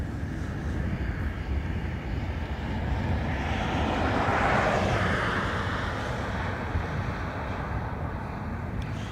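Steady broad roar of a jet airplane on its takeoff run from runway 28 right at Dublin Airport, swelling slightly midway, with wind buffeting the microphone throughout.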